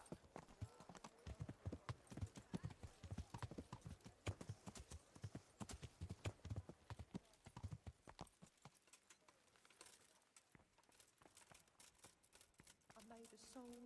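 Rapid, rhythmic clip-clop of horse hooves in the video game Kingdom Come: Deliverance, loud and close at first, then thinning out and fading into quieter ambient sound.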